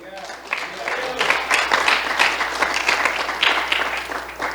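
A church congregation bursts into steady, full applause that swells and holds for several seconds, close and loud throughout.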